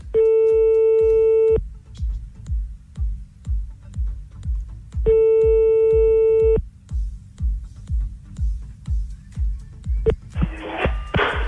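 A telephone busy signal after a dropped call: a steady tone sounds in two long bursts with rapid short beeps between, alone and fairly loud, ending with a brief burst of noise.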